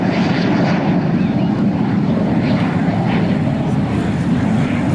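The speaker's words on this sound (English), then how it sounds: "That's our L-39 Albatros" L-39 Albatros jet aircraft performing at an air national guard open house airshow, a steady loud roaring rush of engine noise filling the whole stretch without pause, no talk over it.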